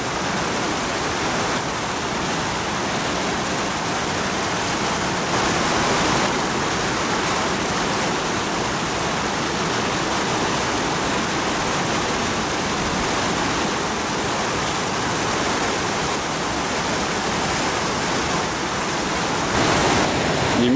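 A rushing mountain river roars loudly and continuously during a river crossing in the Kazbegi area, a dense, unbroken torrent close by for the whole stretch with no speech.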